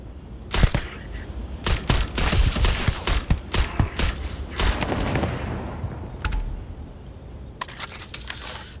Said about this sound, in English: Let's shoot this guy.